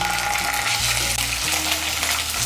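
Ginger paste sizzles in hot oil with a fennel and cumin tempering for vegetarian kochu shak, a steady broadband frying hiss close up with faint low stirring tones underneath, no voices.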